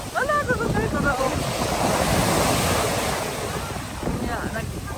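Sea waves washing onto the shore with gusting wind buffeting the microphone, a steady loud roar of surf throughout with faint voices in the background.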